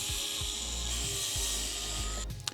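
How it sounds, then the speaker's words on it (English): A DeWalt screwdriver backs out the plate screws on a Onewheel motor during a bearing change. It gives a steady close whir with repeated clicking ratchet bursts and a sharp tick near the end. "screwdriver from DeWalt to take off these screws on the plate because it is way easier"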